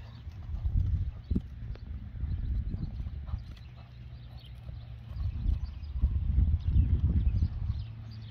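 Hooves of a registered purebred criollo horse with a lobuno coat clop steadily at close range, a continuous irregular walking rhythm with no voices.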